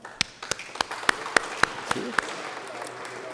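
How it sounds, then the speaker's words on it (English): Applause from a modest audience at a media conference for a regional heritage fund, a sparse run of distinct claps at fairly even spacing over a soft room background, fading toward the end. "Our Mayor, well, they're applauding for you as well, Michael."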